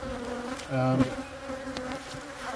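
Honey bees in a top bar hive buzz close by while it is opened for inspection, a steady drone with one louder hum from a bee passing near.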